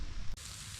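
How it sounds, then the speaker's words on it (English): Rain begins falling outdoors in the New Zealand bush as a soft, steady hiss that briefly breaks and then continues evenly. "Now it's starting to rain again."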